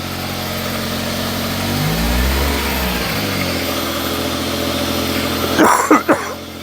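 A Smart Fortwo 450's small engine runs steadily while warming up, its pitch rising and falling in a brief rev, followed by a few sharp knocks and clatters near the end.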